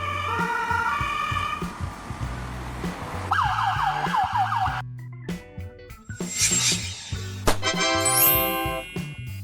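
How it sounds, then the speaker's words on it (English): A Vienna ambulance siren in Austria, alternating two-tone wails and shifting patterns over steady traffic rumble, fairly close and sustained throughout, with a sharp higher sweep near the end. "The capital Vienna mainly uses Mercedes-Benz Sprinter, Volkswagen Crafter, and Peugeot Boxer ambulances"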